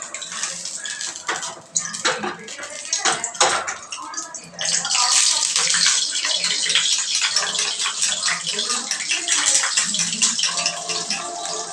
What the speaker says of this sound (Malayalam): എണ്ണ ഒഴിച്ച് വെള്ളമായി കഴിഞ്ഞത് പൊട്ടുന്നു.